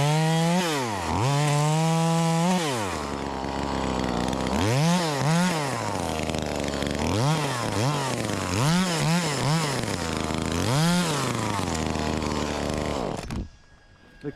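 A knock-off Echo 2511T chainsaw cuts through a log, its engine revving up and dropping back again and again. The saw is loud and close, with the engine cutting off abruptly at the end.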